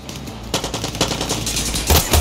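Rapid automatic gunfire from a Far Cry 6 firefight, loud and close, with dense bursts of shots rattling through the whole stretch and heavier blasts near the end.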